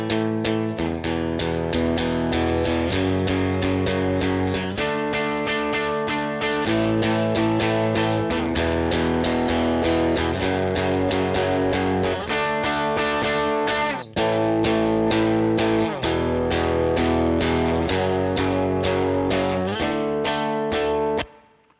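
Electric guitar played through GarageBand Amp Designer with heavier distortion and more midrange, ringing out in sustained distorted chords that change every second or two, loud and alone, with a brief break near the middle.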